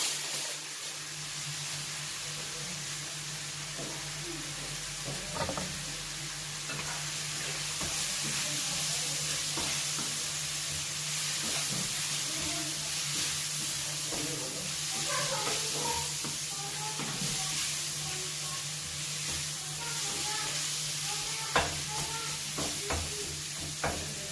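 Chopped onion sizzles and fries in a pan for a Moroccan tahmira base, a steady close hiss with occasional stirring clinks and scrapes throughout.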